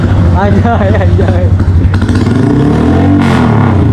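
A motorcycle fitted with an ARM aftermarket exhaust revs loudly up close, its rising and falling engine notes pulsing through the whole stretch while people talk over it.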